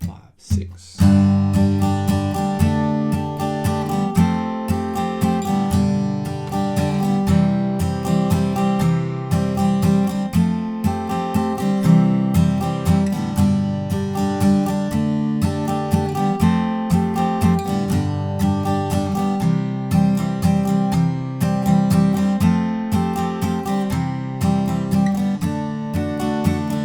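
Acoustic-style guitar strumming the verse part 2 chords of a song, a steady, continuous run of rhythmic strums, close and clear, with no talking over it.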